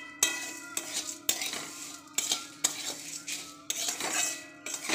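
A utensil stirring mihidana in ghee with torn bay leaves in a metal wok, with repeated scraping clanks in an uneven rhythm, each stroke sharp and close, under a faint sizzle.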